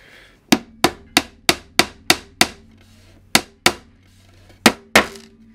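A hammer drives nails into MDF panels with a series of sharp, close, ringing strikes, some quick and evenly spaced, others after short pauses, with no talking.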